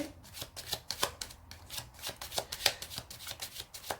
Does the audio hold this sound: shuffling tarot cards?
yes